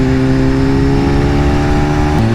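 BMW S1000RR sport motorcycle with an Akrapovic exhaust runs loud and near, holding a steady high engine drone with strong harmonics before the pitch drops sharply near the end.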